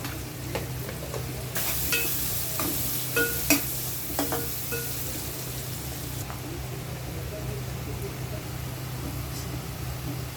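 Onions with turmeric frying in a pan for avakaya chicken are stirred with a spoon, a steady sizzle broken by repeated scraping clinks, close and moderately loud over a low hum.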